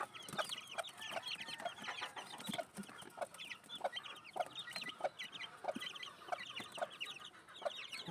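Newly hatched chicks peep and cheep while a hen clucks, close and steady, with a run of soft repeated clucks and chirps in a farm range area and no talking.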